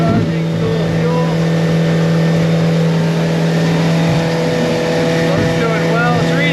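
A Yamaha 90 outboard motor pushes a 2015 Smokercraft Phantom 182 boat, a loud, steady engine drone with a strong hum building under acceleration, wind and water noise throughout and voices talking over it.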